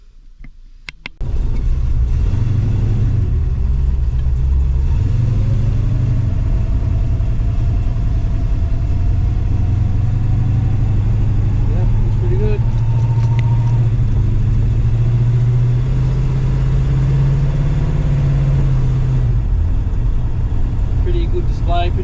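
A classic car cruises along the road with a steady low engine rumble and tire drone throughout, rising slightly in pitch as it picks up speed, with a few faint rattles inside the cabin.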